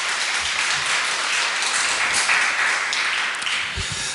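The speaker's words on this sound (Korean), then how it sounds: "우리 남성 파트를 위해서 좀 박수 좀 크게 한번 격려의 박수 드리죠." A church congregation applauds the choir's men's section during Sunday worship, with dense, steady clapping that fills the room at an even level from start to finish.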